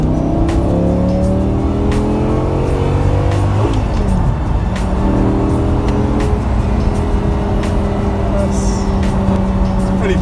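An Audi R8 V10 accelerates on a public road, its engine revving up through rising tones with a gear change partway through, loud and close, with brief talk over it.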